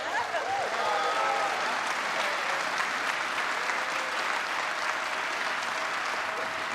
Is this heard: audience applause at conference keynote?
yes